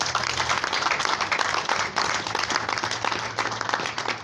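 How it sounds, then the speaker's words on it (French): Guests at a civil wedding applauding the newlyweds, a room full of brisk, continuous clapping at moderate loudness for several seconds. "On applaudit les mariés pour ça."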